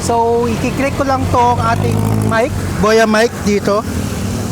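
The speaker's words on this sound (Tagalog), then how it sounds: "sa akin likuran napakaingay ng mga sasakyan" Busy vehicle traffic on MacArthur Highway in Valenzuela City makes a steady engine rumble beneath someone talking close to the microphone throughout.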